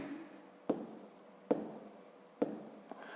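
A pen writes numbers on paper during a column-addition math exercise, giving three sharp tapping strokes spaced under a second apart, close and fairly quiet, with no talk.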